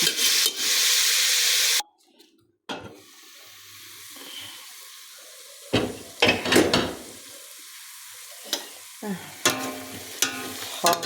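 A burst of loud hissing sizzle from beef frying in a pan for borscht breaks off abruptly. Intermittent scraping and stirring strokes and a few louder clatters follow over a quiet background.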